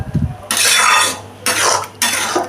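Soybean chunks and egg are stir-fried with spices in a hot pan, giving three loud, close bursts of scraping and sizzling as the spatula sweeps through the mixture.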